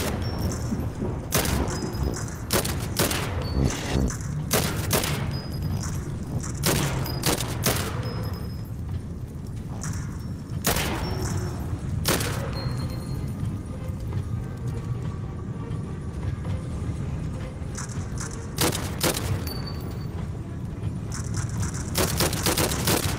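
Rapid bursts of gunfire, including machine-gun-like volleys, in the VR rollercoaster shooting game Epic Rollercoasters. The loud cracks come in clustered salvos with short gaps over a constant rumbling ride background.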